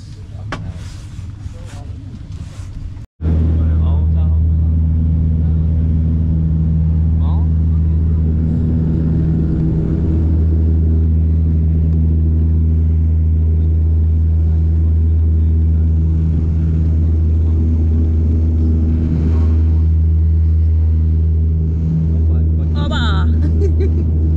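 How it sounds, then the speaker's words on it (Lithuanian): A bus engine rumbles low and steady throughout a ride home, a constant droning hum with faint road noise and occasional clatter, while people talk nearby. "Susėdom į autobusą."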